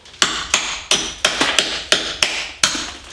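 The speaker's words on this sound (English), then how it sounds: "Let's get a hammer and chisel." Hammer striking a chisel to chip out a tile backsplash, about eight sharp metallic blows in an uneven rhythm, close and fairly loud, with no talk.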